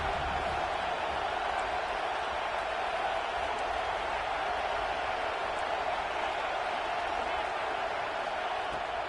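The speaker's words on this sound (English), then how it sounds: "Big 3rd down as the crowd gets behind this defense." A stadium crowd at an Alabama versus USC college football game sends up a dense, continuous roar that stays level and loud throughout, with no clear breaks or separate cheers.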